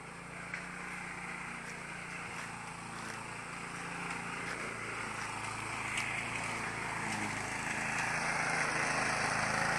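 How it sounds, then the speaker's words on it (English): A lawn mower runs around a house in Australia, its engine droning steadily at a moderate distance and slowly growing louder, with no talking. "I didn't think she could even mow the lawn around the house"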